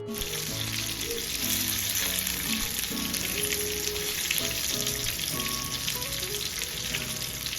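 Fish fries in a pan after being flipped, giving a close, steady sizzle and crackle with a dense hiss that holds unbroken throughout.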